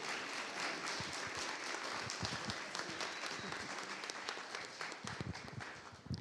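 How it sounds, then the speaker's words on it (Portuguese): A church congregation at a profession-of-faith and baptism service applauds newly received members, a dense, continuous clapping that fills the room and softens slightly toward the end. "Uma salva de palmas para recebê-lo."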